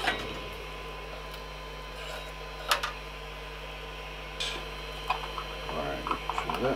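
A Creality CR-10s 3D printer at work printing RC scale parts, with a steady motor whine, scattered sharp clicks and a busier run of rapid ticking toward the end, heard close against a constant low hum.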